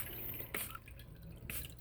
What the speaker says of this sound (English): you can spray peroxide on the tops of them